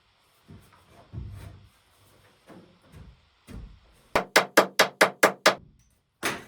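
Soft taps and scrapes, then a rapid series of about seven sharp hammer strikes on wood while building log cabin basement stairs, loud and evenly spaced, followed by one more blow.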